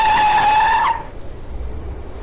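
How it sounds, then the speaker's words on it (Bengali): A car brakes hard on a rainy road, its tires letting out a loud, high squeal for just under a second before cutting off abruptly into a low, quiet rumble. "মাধব দু চোখের পাতা বন্ধ করে জোরে গাড়ির ব্রেক কষে।"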